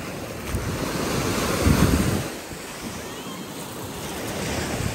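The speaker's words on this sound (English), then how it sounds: "Black water beach." Ocean surf rolling onto a beach at a Sunny Isles resort, a steady wash of breaking waves mixed with gusty wind buffeting the microphone, swelling briefly louder before settling into a constant roar.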